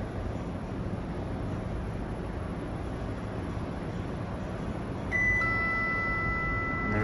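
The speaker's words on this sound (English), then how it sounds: "There's that chime." Chime of a KONE EcoDisc machine-room-less elevator arriving in a parking garage at a shopping mall, a clear sustained electronic tone sounding near the end over a steady low hum and background noise, with no talk.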